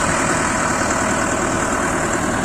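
John Deere 1052 combine harvester engine running at a steady idle, a loud, constant drone with a low rumble and vibration, heard close up and uninterrupted, with no one talking.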